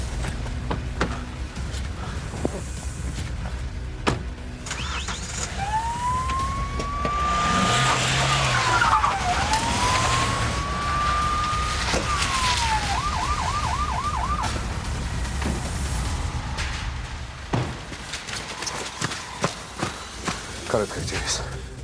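Ambulance and police sirens wail and yelp through a loud street scene, the rising and falling tones sweeping past mid-clip amid traffic rumble and shouting voices.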